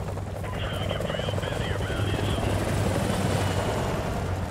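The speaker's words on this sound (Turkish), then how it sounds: "Düşman helikopterleri." Enemy helicopters in Call of Duty Modern Warfare Remastered fly overhead with a loud, continuous rotor drone and whine, layered under game sounds.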